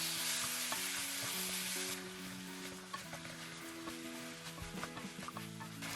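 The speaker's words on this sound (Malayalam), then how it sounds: "ഇനി ഇത് 2 മിനിറ്റ് നേരം ഹൈ ഫ്ലെയിമിൽ നന്നായിട്ട് ഇളക്കി യോജിപ്പിക്കുക" Kerala-style chicken curry being stirred in a pan on high flame for a couple of minutes, a continuous close sizzle with scrapes and clinks from the spoon. A steady background hum sits underneath.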